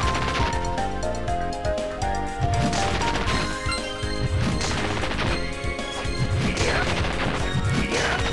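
Objects shattering in Castlevania: Dawn of Sorrow, with repeated smashing crashes landing over dense, loud game music across the whole stretch.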